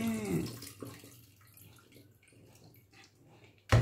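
Dried fish is washed in water, with splashing and dripping loudest at first, then soft trickles and handling sounds, ending in a sudden sharp knock.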